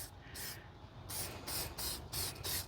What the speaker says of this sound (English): just spray it evenly